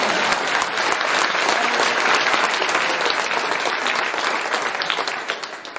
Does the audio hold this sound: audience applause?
yes